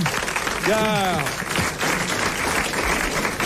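A studio audience claps for a winner on a 1989 French television game show, a steady patter of applause under a host's voice speaking over it.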